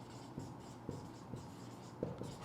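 A chemical name handwritten with a pen on paper, faint scratchy strokes with soft taps at irregular intervals, quiet and close with no voices.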